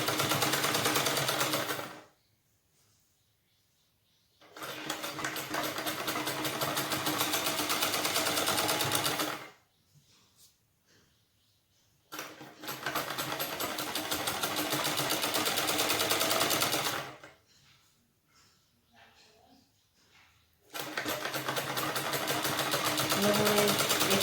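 A sewing machine stitches in three long, steady whirring runs, each several seconds long. Near-silent pauses separate the runs.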